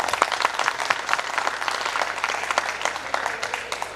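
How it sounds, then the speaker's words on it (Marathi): Audience applause at an alumni meet, a steady wash of many hands clapping together for about four seconds, moderately loud and continuous with no talk over it. "एक वेळा टाळ्या वाजवूया प्लीज"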